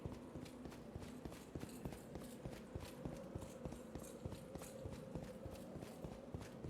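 Horse hooves clip-clop in a video game, a steady, fairly quick run of hollow knocks at an even pace over a low musical drone, heard quietly at a moderate distance.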